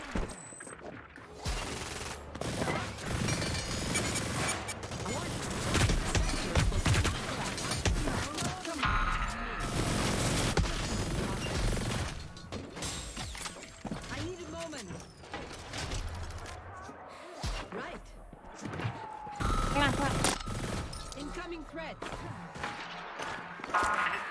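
Rapid bursts of Hyper Scape video game gunfire and explosions crackle almost continuously, loud and busy, with a voice talking over the action.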